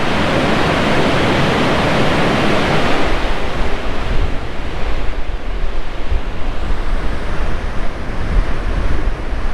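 Ocean waves and surf pounding a Florida shore during a perigee tide, a loud continuous wash of breaking water with wind rumble, heaviest in the first few seconds and then a steady roar.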